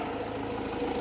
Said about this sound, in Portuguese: Motor, ó, escuta o barulhinho do motor aí, ó.